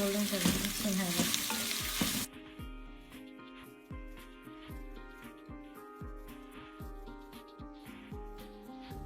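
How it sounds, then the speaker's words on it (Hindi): Finely chopped onions fry golden brown for beef yakhni pulao, a loud sizzle at first that settles into steady crackling with repeated stirring scrapes through the rest, and no voices. "अब हम इसको गोल्डन ब्राउन करेंगे, सुनहरा।"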